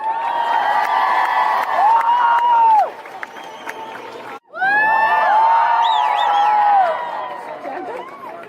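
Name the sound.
crowd applause and cheering at climate strike rally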